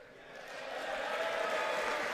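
Applause in Congress at the 2020 State of the Union, a broad distant wash of clapping that swells slightly and stays steady and fairly faint.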